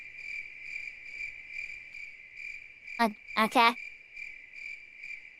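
Crickets chirp steadily in a forest in the game Lunar 2, a continuous high trilling pulse that runs throughout while a voice briefly speaks partway through.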